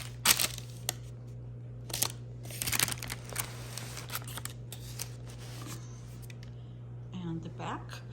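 A knife cuts into a baked Polish royal cheesecake with a crisp crust, giving a few sharp crackling scrapes and crunches near the start. Quieter rustling and light taps follow over a steady low hum.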